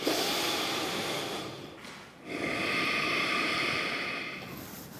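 A steady, close breath drawn in during a yoga stretch for back pain, a long airy inhale that dips briefly near the middle, then continues as a broad, even rush with no talking.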